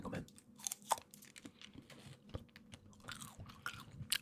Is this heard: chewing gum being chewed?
yes